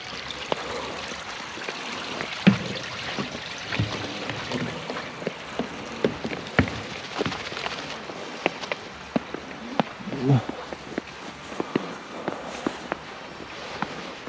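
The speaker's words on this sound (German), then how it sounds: "Da läuft der Bach." A stream flows beneath a footbridge near the ruins of a moated castle in Großlangheim, a steady low rush of water with scattered footsteps and small knocks layered over it.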